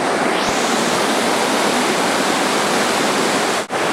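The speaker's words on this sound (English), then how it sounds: "Another beautiful falls." A waterfall on Falling Waters Trail in the mountains, a loud, steady rushing roar of falling water that fills the scene, with a brief dip near the end and no voices.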